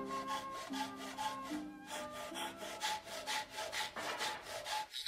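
Anabiki-noko, a Japanese round nose crosscut roughing saw, cutting through wood in steady repeated push-pull strokes, each a rasping, slightly tonal scrape in a regular rhythm, close and clear with no talk.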